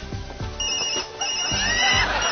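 A novelty ringtone playing a fart sound through a phone in an office, sounding as a series of short, loud, low rasping bursts that repeat in an irregular ringing pattern, with no talk over it.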